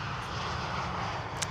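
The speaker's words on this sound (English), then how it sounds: "This is, by the way, a KLM 737-700." KLM Boeing 737-700 airliner at Amsterdam Schiphol airport, a steady broadband jet engine roar held at constant level throughout, with no voices over it.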